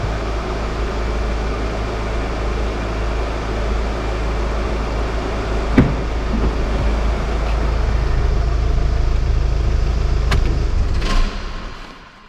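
Volkswagen Golf V GTD with a BMN diesel engine running roughly while smoking heavily: a loud, steady, low rumbling drone with a couple of faint knocks, close by, and no one speaking.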